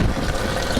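Liquid nettle fertilizer is poured into a container in a steady, splashing gush of water that runs briefly and without a break.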